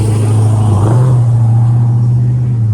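An old-style car passes through a small downtown park and parking lot, a steady low engine drone that rises slightly in pitch midway and holds loud and close throughout, with no talk.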